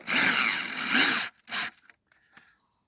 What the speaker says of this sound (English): Right, I've got an electric powered drill.